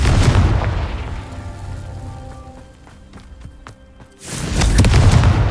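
A Confringo blasting spell explodes in a video game with a heavy burst of noise, a quieter stretch of crackling debris and tones, then a second loud blast near the end.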